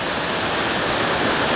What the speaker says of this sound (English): river here with big stones